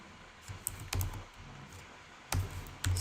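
Quiet, close keystrokes on a computer keyboard while code is typed, a few scattered taps giving way to short louder clusters of clacks. No one speaks.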